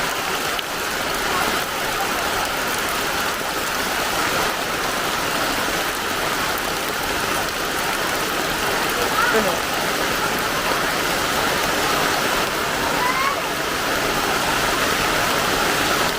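Steady rain falling hard and constant for a long stretch, a broad rushing hiss with a voice faintly heard beneath it.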